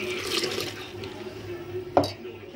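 Coconut milk strained through a filter into a vessel, a steady faint trickle of liquid running throughout with a brief louder splash near the end.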